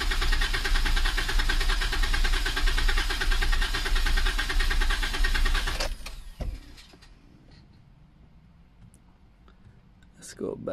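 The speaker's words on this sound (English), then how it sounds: "which you can press the accelerator a number of times and then just turn it over and get that waveform" A Jeep Wrangler engine cranks in flood mode with the accelerator pressed, a loud steady rhythmic churning for about six seconds that cuts off abruptly. Faint clicks and quiet handling follow.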